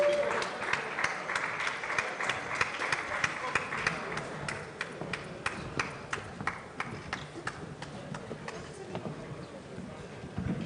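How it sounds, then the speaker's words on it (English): A room of attendees at an employers' summit in Nigeria claps for the planning committee, a moderate stretch of scattered, uneven clapping with distinct individual hand claps and some background voices. "Please, let's give a round of applause,"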